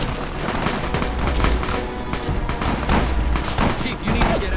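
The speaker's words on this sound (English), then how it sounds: "What the hell? Is that gunfire?" Gunfire in the Fallout: New Vegas battle at Bitter Springs comes as a dense, crackling run of rapid shots and bursts that overlap unevenly across the whole stretch.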